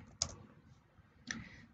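Two isolated clicks of computer keyboard keys tapped while typing a command in MATLAB, faint and close, with quiet room tone between.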